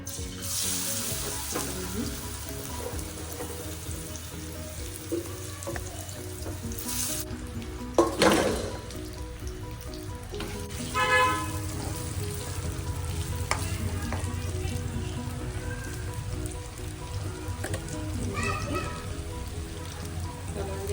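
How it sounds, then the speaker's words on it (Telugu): Mustard seeds, fennel and ajwain crackle and sizzle in hot oil in a pan for amla pickle, a steady close frying hiss with scattered pops and occasional stirring clatter. "సీడ్స్, సోపు, వాము కొంచెం ఆయిల్లో వేస్తే బాగుంటుంది."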